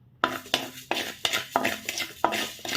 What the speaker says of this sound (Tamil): அரிசியை சேர்த்ததுக்கப்புறமா அரிசி நல்லா பொரியிற அளவுக்கு மீடியம் ஃப்ளேமில் வச்சு வறுத்துக்கலாம்